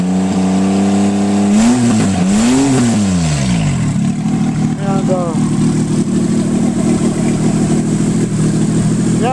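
Car engine running with no muffler, loud and raw, revving up and falling back a couple of times before settling into a steady rumbling idle.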